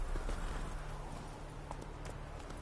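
Roach, Geralt's horse in The Witcher 3, galloping off as steady rhythmic hoofbeats under a dense, loud wash of ambient game noise, with no talk over the hooves.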